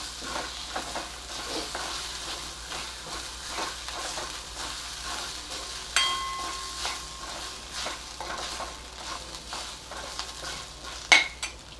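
Ginger-garlic paste stirred into onion and grated coconut frying in a pan, with a continuous sizzle under repeated scraping and clinking spoon strokes, close and moderately loud, and no one speaking.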